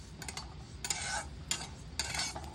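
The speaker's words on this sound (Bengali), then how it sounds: "তিলটা আমি আগে ভালো করে হালকা ভেজে নিচ্ছি" Sesame seeds toast lightly in a dry pan with a soft rustling hiss and a few short scraping strokes of a spoon, close but quiet, with no speech.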